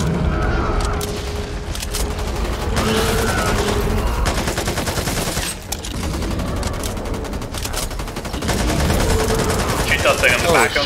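Dense, loud gunfire from the co-op shooter Back 4 Blood rattles almost without pause, with bursts of automatic fire and booms layered over game noise and occasional talk.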